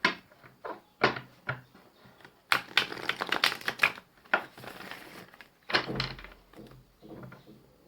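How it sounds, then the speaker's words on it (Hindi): Tarot cards being drawn and shuffled from a deck, a series of close papery flicks, snaps and riffling bursts at an irregular pace, fairly quiet with no talking. "चलिए इस डेक से 4 कार्ड निकालूंगी मैं।"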